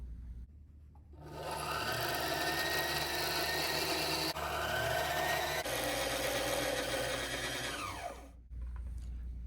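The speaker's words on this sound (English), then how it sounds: "now continue to wind until it's full" A Singer 2517C sewing machine winds a bobbin with a steady, loud mechanical whir lasting several seconds, then stops with a brief shift in pitch near the end, and a quiet background hum remains.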